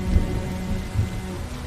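Steady rain falls throughout a period drama scene, a dense, even hiss with a low rumble underneath and no voices.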